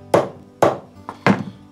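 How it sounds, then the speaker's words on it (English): Three sharp hammer taps drive nails into plywood, evenly spaced and close by, with a fainter knock between the second and third. "I'm just going to tap these nails in to get a spot"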